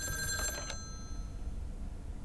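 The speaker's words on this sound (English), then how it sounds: "Oh, Phone rings." A telephone rings in the video game Lake with a bright burst of ringing at the start that quickly fades into low room hum.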